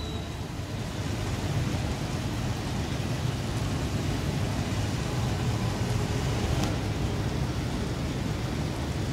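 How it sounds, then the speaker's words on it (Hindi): Gentle rain falling outside makes a steady, unbroken broadband hiss at an even level throughout, soft and diffuse, with no voices. "बाहर बारिश हो रही है"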